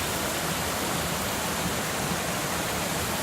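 A waterfall pours into a big pool in a cove, making a dense, steady hiss and roar of rushing water. The sound is close and continuous, with no talking.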